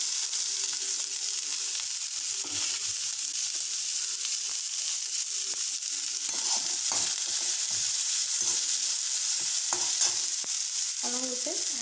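Onion fries in a pan for chutney, a continuous bright sizzle held steady for several seconds with scattered soft stirring knocks near the end, no voices.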